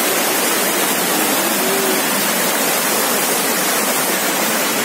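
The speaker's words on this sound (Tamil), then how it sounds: "அங்கே நல்லா ஃபால்ஸ் விழுகிறது கேட்குது." A waterfall at Aliyar dam, Monkey Falls, roars as a loud, steady rush of falling water, constant throughout with no talking.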